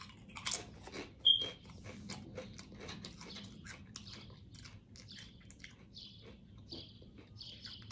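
Close, crisp crunching and chewing of honey barbecue cheese chips, sharp bites early followed by steady softer chewing, with faint bird chirps in the background.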